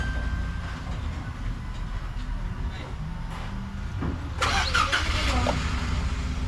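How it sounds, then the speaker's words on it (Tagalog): A minivan engine cranks and catches near the end, its idle rumble rising under steady low background noise and a voice. "So start natin yung makina natin."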